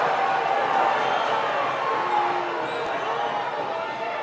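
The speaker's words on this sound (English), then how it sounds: "You can hear the crowd, obviously." Stadium crowd at a San Antonio FC versus Colorado Springs Switchbacks soccer match, a continuous distant roar and murmur of spectators that stays steady without distinct cheers.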